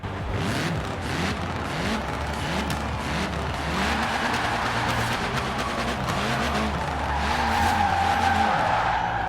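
An Alpine A110 spins out in Forza Horizon 4, tyres skidding and squealing continuously over a droning, revving engine, loud and close for several seconds.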